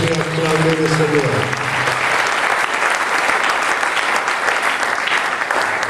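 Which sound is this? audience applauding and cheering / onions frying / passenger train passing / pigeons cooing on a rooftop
audience applauding and cheering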